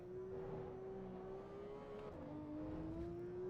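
A mid-engine performance sports car with a PDK gearbox on the Nürburgring Grand Prix circuit in Assetto Corsa EVO, its engine holding a steady, faint drone that dips briefly as it shifts before climbing again.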